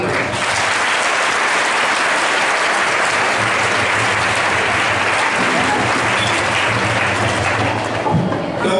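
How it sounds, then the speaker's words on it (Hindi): An audience at a government higher secondary school ceremony in Nagda, held for a dome inauguration and bicycle distribution, claps loudly. The dense, sustained applause fills the whole stretch, with a few faint voices mixed in. "जोरदार अपने लिए ताली बजाएं।"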